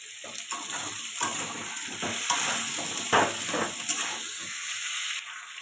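Potatoes sauté in a hot pan with a continuous oily sizzle, broken by repeated scraping and stirring knocks of a spatula at close range.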